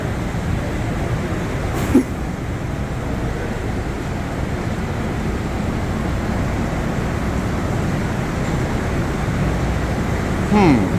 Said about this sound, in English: Well, this train is gonna go to 33rd